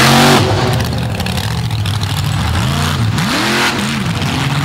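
Loud monster truck engine on the Monster Truck Throwdown Tour at Dragway 42, revving up and down in repeated swells with pitch rising and falling, close and dominant.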